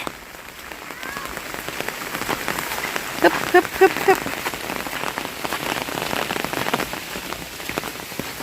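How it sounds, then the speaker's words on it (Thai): Steady rain patters on a surface throughout, with a few brief rhythmic grunts or puffs from a voice partway through. "อากาศดีเนาะฝนตก ลมเย็น"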